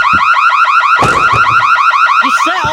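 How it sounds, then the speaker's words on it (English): A loud car alarm blares in a VRChat hangout, its rapid warbling siren cycling steadily throughout, with a brief burst of noise and faint voices and movement underneath. "You set off your own alarm"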